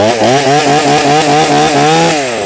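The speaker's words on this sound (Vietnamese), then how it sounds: "Rồi mở công tắc giật cái máy này cũng vậy lắm" A Dekton petrol chainsaw runs loud and close, its two-stroke engine buzzing steadily with slight revving rises and falls throughout, no voices over it.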